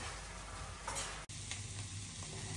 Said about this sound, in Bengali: এখন এই হলুদ আর মরিচটা ভালোভাবে একটু কষাই নেই।